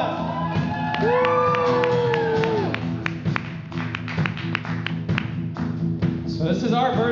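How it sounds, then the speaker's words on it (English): A concert audience cheers, whoops and claps, with shouting and a rising wail of voices up front and sharp scattered claps that thin out toward the end. "give yourselves a round of applause"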